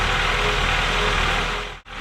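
A Honda car engine idles steadily and loudly up close with its PCV valve hose pinched off, a continuous rumbling drone that cuts out abruptly near the end.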